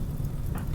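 Steady rain falls in the colony-building game RimWorld, a continuous broadband hiss that holds evenly through a brief stretch with no voices.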